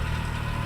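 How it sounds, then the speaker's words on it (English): A loud truck passes close by, its engine a steady low rumble that fills the short stretch with no voices over it. "Wait for this loud truck to pass by."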